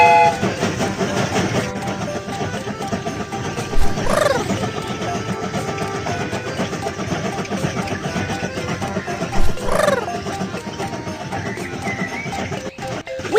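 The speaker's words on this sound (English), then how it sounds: "The train is about to start." A cartoon train rolls along with a steady rhythmic clatter and rumble, two short whistle-like blasts rising above the running noise, with no talking.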